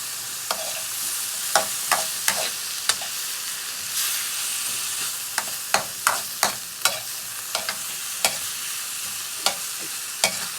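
Food sautés in a pan with a constant hiss and sizzle while a utensil stirs and scrapes in repeated sharp strokes, close and fairly loud, with no speech.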